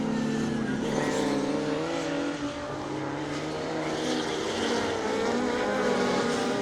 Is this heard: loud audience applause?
no